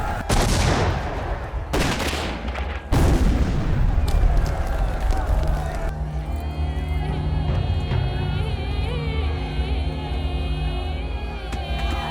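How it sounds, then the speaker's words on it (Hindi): Gunfire exchanged from both sides in an action film battle scene: loud bursts of shots and blasts in the first seconds, then a dense sustained roar of fire under music and crowd noise. "दोनों तरफ से गोलीबारी जारी है।"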